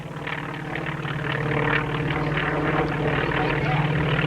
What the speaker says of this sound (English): And what a sound that airplane has.